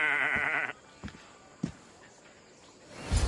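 Sheep-like bleats from goats in a goat pen in a video game, one wavering cry near the start followed by a few shorter, fainter calls and soft thumps, ending with a low rustle.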